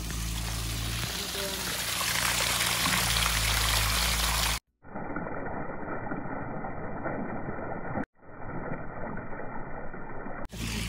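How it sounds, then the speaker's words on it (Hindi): A small garden waterfall pours steadily over rocks, a continuous close rushing and splashing that runs unbroken, with abrupt cuts and level shifts partway through and someone talking at times over the water. "देखो झरना बह रहा है"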